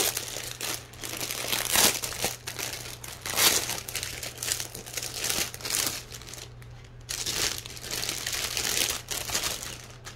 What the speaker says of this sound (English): Apologize for the crinkling.